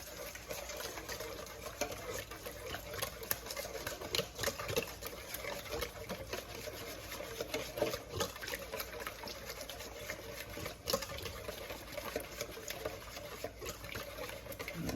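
Ingredients being mixed with a little oil, heard as a continuous close whirring, clattering churn with faint wet slapping throughout.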